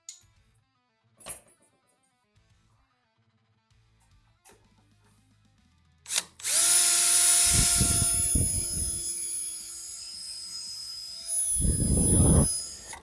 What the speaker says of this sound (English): Here I was drilling out the factory spot welds to remove that lower section.